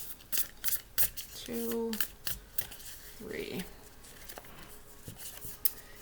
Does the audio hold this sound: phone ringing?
no